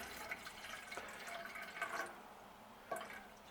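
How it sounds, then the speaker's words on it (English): Water pours steadily from a cup into a small pot for a soda-can penny alcohol stove setup, a soft trickling splash that ends with a few faint drips. "We're going to put 1 cup of water on."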